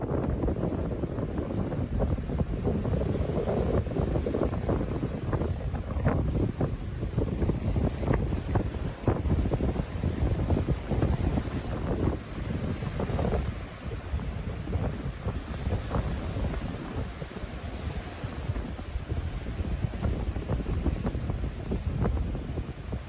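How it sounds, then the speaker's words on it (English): Rough sea water churns under a pier, heard with gusty wind buffeting the microphone in a continuous, loud, roaring wash with no speech. "It was quite rough water under the pier."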